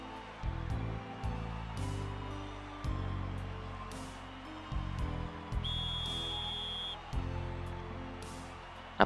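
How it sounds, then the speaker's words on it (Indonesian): Referee whistle from a Captain Tsubasa PS2 football match blows one steady, fairly loud, high tone lasting about a second, marking the end of the first half. Chiptune-style game music plays underneath. "Peluit apa tuh, peluit babak pertama habis kan."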